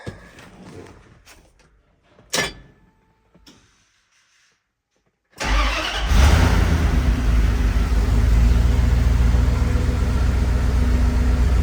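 Dodge W250 with a swapped Magnum engine: scattered clicks and a short clatter, a pause of silence, then the engine catches on its first start and settles into a loud, steady idle that carries on to the end.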